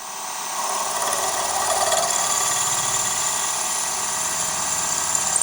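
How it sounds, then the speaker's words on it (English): A drill bores holes into a Yamaha tom mount, giving a steady high whine that runs continuously and fairly close, with a faint grinding texture beneath it. "Centre drilling helps to start the hole and gives a guide for the main drill to follow through."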